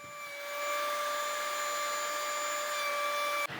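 A wood router makes a half-inch-deep final pass while building a mobile shop cart, giving a steady, high-pitched motor whine with a rough cutting rasp that holds evenly for several seconds before cutting off abruptly near the end.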